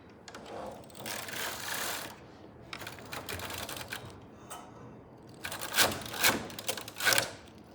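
A Silver Reed knitting machine's carriage runs through a needle rib transfer and racking pass with half-pitch resistance, giving bursts of dense mechanical clattering and rattling that rise and fall, loudest in the final few seconds.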